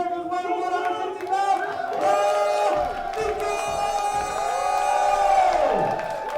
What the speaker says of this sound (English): Great crowd support for Haviko there.